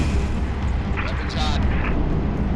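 Sabre gunfire from Halo Reach, a dense continuous rumble of heavy shots and explosive bursts filling the whole moment, loud and close, with no clear gaps between impacts.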